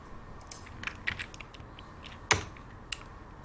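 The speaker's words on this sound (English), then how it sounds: "It sounds like you're murdering that keyboard, like serious murder." Loud, hard typing on a computer keyboard, with irregular clattering keystrokes and one especially heavy slam near the middle, close to the microphone with no talking.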